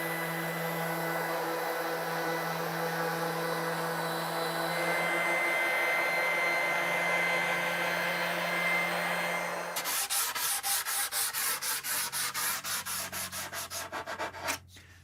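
A wooden rolling shelf made with stair treads is sanded. A continuous abrasive whir runs for about ten seconds, then gives way to a quick series of rhythmic rubbing strokes. It is close and fairly loud, with no talking.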